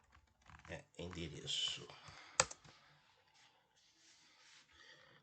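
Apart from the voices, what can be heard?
typing on a computer keyboard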